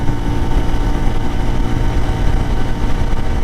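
A CFMoto IBEX 450 motorcycle engine holding steady near 7,000 RPM at highway speed, a loud continuous drone with wind noise and no break.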